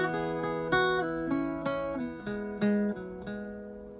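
Irish bouzouki picking the first line of the Shaskeen jig, a run of bright plucked, ringing notes in a lilting jig rhythm, played solo and close with no talking.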